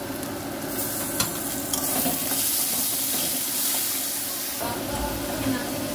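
Onions and tomato paste frying in a pan hiss loudly, stirred with scraping utensil strokes and a few knocks, a steady close sizzle throughout.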